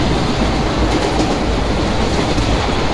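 Bhusaval–Katni passenger train in the MSTS Open Rails simulator, running loud and steady with a continuous rumble and clickety-clack of wheels on track.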